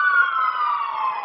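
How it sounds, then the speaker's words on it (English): An emergency vehicle siren wails loud and steady, a single drawn-out tone gliding slowly downward with clear harmonics, heard alone without talk. "There's the sirens."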